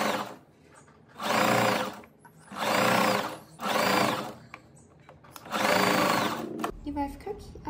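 Sewing machine stitching elastic onto summer dress fabric, running in four loud bursts of rapid whirring with short pauses between them, then quieter handling noise at the end.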